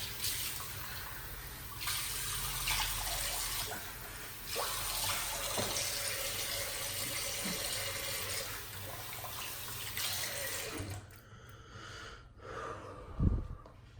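Tap water runs steadily from a faucet into a sink while a face is rinsed after a wet shave, a continuous close splashing that cuts off near the end, leaving quieter handling sounds and a brief knock.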